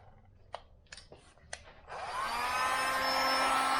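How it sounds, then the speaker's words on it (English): A handheld heat gun, used to warm a homemade piston ring compressor for a Honda Goldwing, starts with a few sharp clicks, then blows a steady, loud fan-and-heater rush that continues to the end. "And I take my trusty heat gun."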